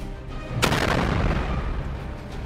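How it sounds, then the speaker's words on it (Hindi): A Houthi missile strikes a merchant ship at sea, setting off a loud explosion: one sudden sharp blast followed by a sustained heavy roar and rumble that fills the rest of the moment, with no voices. "जैसे ही हूती की मिसाइल जहाज के इस हिस्से पर लगती है, वैसे ही जहाज में जोरदार ब्लास्ट होता है"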